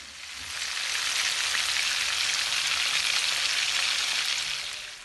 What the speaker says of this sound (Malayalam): ഇവയെല്ലാം തിരിച്ചും മറിച്ചും ഇട്ട് ഫ്രൈ ചെയ്തെടുക്കാം.